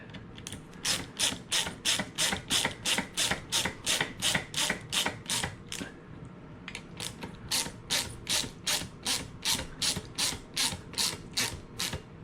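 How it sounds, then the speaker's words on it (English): A ratchet clicks in steady, rapid runs while tightening the clutch bolts on a Redcat Rampage MT RC truck, the close, crisp ratcheting pausing briefly midway before continuing evenly. "Now let's just give it a little crank."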